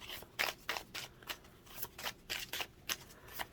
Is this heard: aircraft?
no